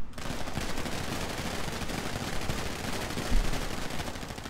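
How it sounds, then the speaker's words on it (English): Guns are fired into the sky in a 21-gun salute at a biker club funeral, a dense, continuous crackling volley of outdoor gunfire with one heavier burst near the end. "We gotta do a 21 gun salute."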